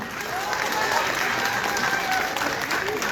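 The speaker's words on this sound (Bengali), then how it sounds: "তার জন্য একটা জোরে হাততালি দিয়ে" A theatre audience applauds, sustained dense clapping from a large crowd filling the hall at steady volume, with a voice faintly audible beneath.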